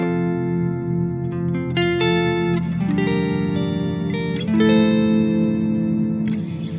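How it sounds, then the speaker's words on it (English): Electric guitar played through a Neunaber Illumine reverb pedal in rumble mode, a run of sustained distorted notes and chords with added low end and long reverb wash, loud and alone. "I could have something like rumble that adds more low end"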